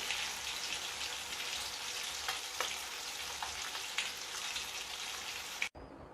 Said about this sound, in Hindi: देखियो ये सब माछ हम फ्राई करके निकाल लेली, छान के निकाल लेली।